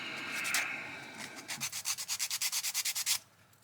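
Sandpaper rubs back and forth across a wooden pallet in a quick, even series of about fifteen rasping strokes, close and fairly quiet, after a brief initial scrape.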